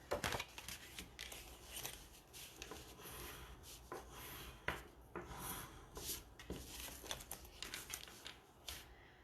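Paper being trimmed for a handmade card: a run of quick scraping and slicing cuts with small papery rustles between them, close and fairly quiet, with no talking.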